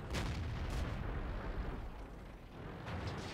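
Heavy tank cannon fire from the World of Tanks game, with rolling, booming blasts over a dense low rumble that stays loud and continuous throughout.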